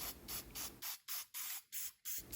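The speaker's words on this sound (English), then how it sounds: "A touch of spray paint to freshen up those recycled handles." Rapid short bursts of spray paint hissing from a can onto recycled furniture handles, about seven quick pulses in a row, close and fairly even.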